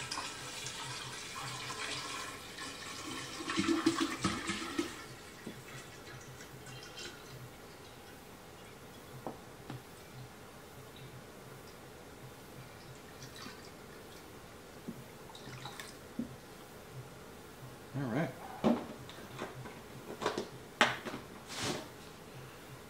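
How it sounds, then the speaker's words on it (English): A gallon of water pours into a stainless steel insulated jug, starting with a brief louder splashing rush, then quieter trickles, drips and small clinks of handling scattered through the rest. "So we are going to actually put a gallon of water in there and see how it's like."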